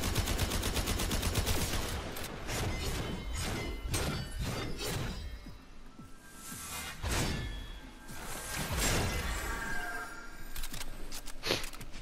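Gunfire in the Warframe video game during Railjack gameplay, with repeated sharp shots and whooshing bursts scattered over a busy, loud mix of game sound effects.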